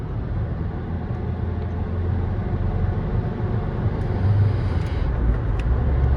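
A Fiat Fiorino 1.3 van accelerates on the road, its engine a steady low drone under road and wind rumble, rising louder toward the end.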